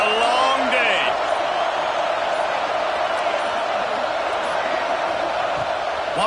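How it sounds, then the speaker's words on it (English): A stadium crowd in a college football video game roars at full throat, a loud, dense and unbroken wall of noise that holds steady from start to finish. "This crowd, full throat, splitting the eardrums and letting them know it's going to be a long day."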